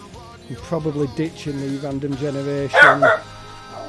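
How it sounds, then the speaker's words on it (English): A pet dog barks and yips in a quick run of sharp, close calls, with someone talking over and between the barks. "Excuse my dog."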